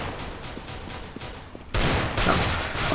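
Bursts of gunfire from Counter-Strike: Global Offensive, faint and distant at first, then a sudden loud volley close by for the last second or so, with no talking.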